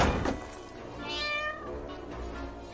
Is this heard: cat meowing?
yes